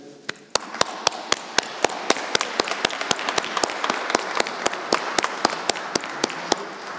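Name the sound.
congregation applause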